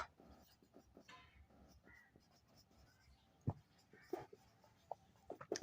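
Pen or pencil writing on paper while a secondary-school maths test problem is worked out, soft scratchy strokes running in short bursts under a speaking voice, with a few sharper taps.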